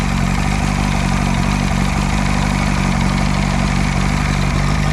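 A V-4 outboard motor idles loudly and steadily up close, a continuous rumbling drone with a light clattery texture and no change in pace.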